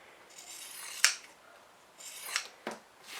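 Scissors snip through excess fabric beside sewn seams of a zippered tote bag, a few quiet, close cuts spaced apart in an otherwise hushed room.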